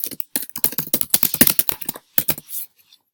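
Keys clatter in quick, uneven bursts on a computer keyboard, close and crisp, with a short pause near the end before a few final taps.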